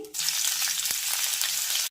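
Peanuts, roasted chana dal and finely chopped green chili hit a hot pan for a puffed rice snack, bursting into a loud, continuous frying sizzle that runs nearly two seconds before stopping abruptly.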